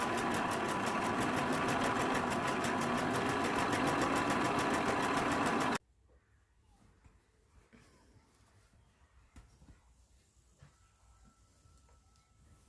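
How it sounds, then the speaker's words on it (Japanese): A sewing machine stitches patchwork fabric strips with a steady, fast whirring hum for about six seconds, then stops, leaving faint handling noises. "A と B の短冊セットにさらに C を縫い足します。"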